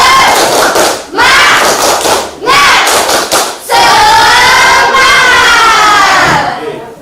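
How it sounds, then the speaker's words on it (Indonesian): A seated school class does rhythmic spirit clapping (tepuk semangat), loud and close: dense bursts of many hands striking in unison, broken by brief pauses, with voices shouting along throughout. "Jadi kita tepuk semangat, tapi sambil duduk tidak apa-apa."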